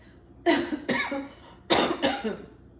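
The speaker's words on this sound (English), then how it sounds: "I still have a bit of a cough" Two pairs of sharp coughs, close and fairly loud, with a short pause between the pairs and no talking.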